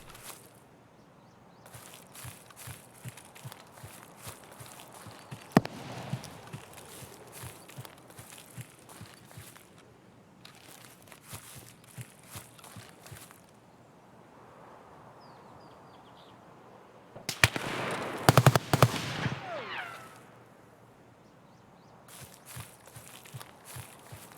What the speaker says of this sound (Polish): Albo go słyszałem tutaj, albo to były moje kroki.